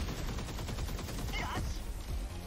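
Flare torpedo and pulse laser weapons firing in the 13 Sentinels: Aegis Rim video game: a rapid, dense volley of repeated shots and zaps, continuous and fairly loud for a couple of seconds.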